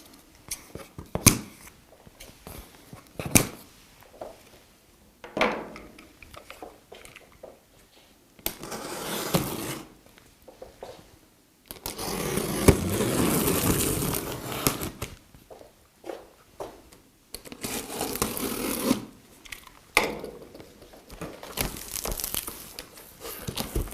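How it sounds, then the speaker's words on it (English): A 10 by 20 inch mill kit being unpacked from its box: bursts of crinkling and rustling packaging with scraping handling noises, separated by quieter pauses, close up. "let's go ahead and take it out of the box and see exactly what we've got."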